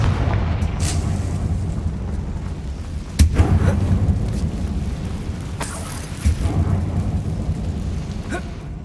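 A Confringo blasting spell in Hogwarts Legacy goes off as two sharp booms, one near the middle and another a few seconds later, over a steady low rumble of game ambience.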